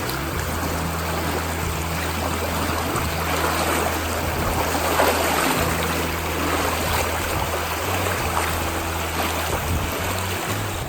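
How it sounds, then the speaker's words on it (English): Steady, close rush of water from a creek at a hiking trail crossing on Caney Creek in the Arkansas woods, a continuous broadband flow with no voices heard. "Stream crossing number 2 for the day."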